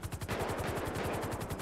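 Rapid bursts of gunfire aimed at officers during a police roleplay game, a continuous fast train of shots lasting the whole moment at steady loudness, with no talk over it.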